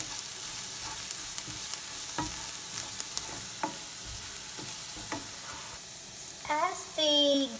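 Garlic and vegetables sizzling in a stir fry pan, a steady close hiss with occasional scraping stirs and clinks, ending with a brief tonal beep.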